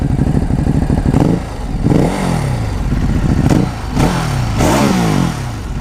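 Loud, close 2016 Ducati Hypermotard engine revving repeatedly, the rough exhaust note rising and falling in several surges with mechanical clatter underneath.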